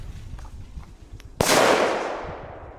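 A small Belgian firecracker goes off in one sharp, loud bang after a stretch of quiet outdoor background, its crack decaying over about a second into fading rumble.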